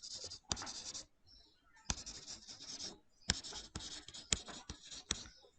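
Someone writes by hand, probably with a pen or marker, on a surface during an accounts lesson, producing close, faint scratchy strokes in bursts broken by brief pauses and sharp taps.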